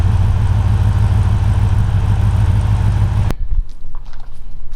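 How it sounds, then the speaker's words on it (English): A 1957 Ford Courier sedan delivery with a 302 HO EFI V8 idles loudly and close, a steady low rumble that cuts off abruptly near the end, leaving quieter background. "so the idle's dropping right now."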